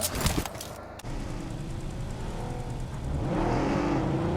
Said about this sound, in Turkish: Abi araba geldi, araba geldi.